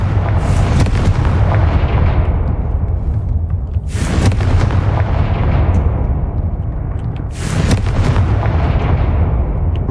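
Confringo fire spell blasts in the video game Hogwarts Legacy, a loud continuous roaring rumble broken by two sharp explosive bursts about three and a half seconds apart, with no speech.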